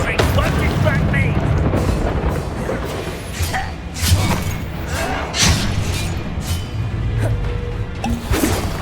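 An Incendio fire spell cast in Hogwarts Legacy during a fight, with whooshing bursts, crashes and booming impacts layered over game music and character voices.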